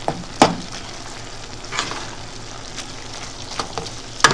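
Ground meat for Rotel dip browning in a pan, a steady soft sizzle with occasional sharp scrapes and clatters as it is stirred, close and with no talk over it.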